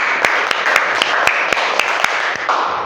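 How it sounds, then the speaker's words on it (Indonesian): Applause for a student group in a high school physics class, a steady broadband clapping wash with sharper individual claps standing out at regular intervals, continuing at even loudness for about three seconds with no talk over it. "Kita beri aplaus untuk kelompok 2."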